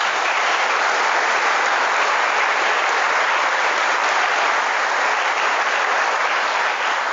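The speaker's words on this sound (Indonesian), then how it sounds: "Coba tepuk tangan sekali lagi." A large audience of military trainees and students bursts into sustained, dense applause, a steady roar of many hands clapping at once that holds evenly at full strength throughout, with no talking over it.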